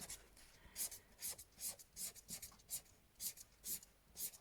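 Felt-tip marker strokes coloring grass on paper, a series of short, quiet scratchy swipes repeating in a quick, uneven rhythm, close up with no talking.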